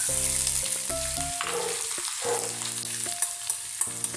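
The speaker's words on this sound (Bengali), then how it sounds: "কড়াইয়ে তেল গরম হয়ে গেছে, এবার প্রথমেই দিয়ে দিলাম এই গ্রেটেড রসুন" Grated garlic frying in hot oil in a kadai, a steady close sizzle running throughout under bright musical tones, with no voices.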